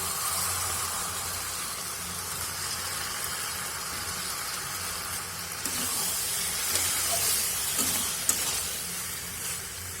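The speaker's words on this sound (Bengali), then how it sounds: "সামান্য একটুখানি জল দিয়ে দেব, যেটা পাস্তাটা সিদ্ধ করেছিলাম সেই জলটাই" Pasta cooks in a pan after a splash of its cooking water is added, giving an even, moderate hissing sizzle that runs steadily without pause.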